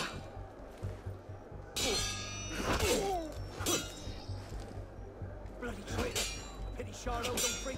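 An alarm bell in the video game Assassin's Creed Unity is struck repeatedly, giving several sharp metallic clangs with ringing overtones. Quieter clatter and game voices sit in the background.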